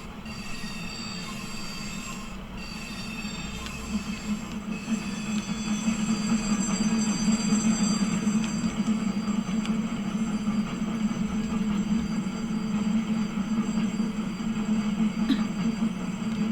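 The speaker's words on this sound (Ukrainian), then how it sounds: "Такий великий поїзд" Big train passing a railway crossing, a continuous loud rumble of wagons rolling by with squealing wheels and steady clatter, growing louder midway and staying close for the whole stretch.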